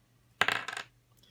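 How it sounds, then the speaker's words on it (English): A Thunderbirds tabletop RPG die lands and clatters on a hard surface, one sharp impact followed by a short burst of quick rattling bounces before it settles, close and alone. "we're going to roll a nice Thunderbirds dice"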